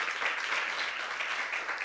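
Sustained applause from a church congregation for the children, a dense, even patter of many hands clapping at once with no voices over it.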